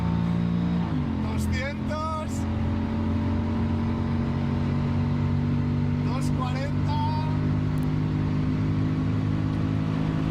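A Mercedes-McLaren SLR engine pulls hard through the gears from inside the car, rising in pitch with each shift and dropping on upchanges, loud and steady under a voice calling out speeds.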